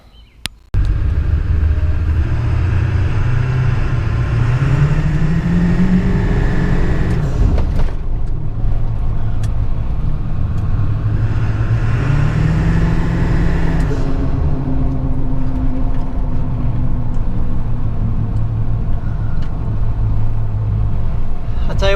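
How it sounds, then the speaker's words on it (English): A 7.3 Powerstroke diesel truck with a new air intake on a test drive: loud, steady engine drone rising and falling with gear changes, close up, with turbo whine and occasional hissy bursts that may come from a blow-off valve. "I can actually hear like a blow-off valve now. Definitely hear the turbo more."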